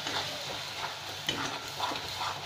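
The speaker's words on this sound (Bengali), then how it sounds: "এবারে সবকটা খুব ভালো করে আমি কষে নেব" Paneer masala seasoned with Kashmiri chili powder sizzles in a pan as a spoon stirs and scrapes it, soft intermittent scraping strokes over a steady light frying hiss.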